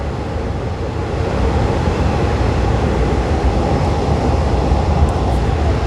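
Steady, loud rumble of a passenger train running on an elevated track from Don Mueang toward Bang Sue in the evening, a continuous rolling roar with no break and no talk.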